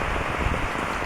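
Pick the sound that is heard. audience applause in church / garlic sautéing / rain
rain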